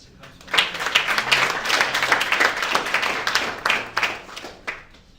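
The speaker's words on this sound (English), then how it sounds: "let us know by a hand clap as she comes forward" An audience claps by hand at an entrepreneurship week event as a woman comes forward, a moderate patter of many hands swelling and fading over a few seconds.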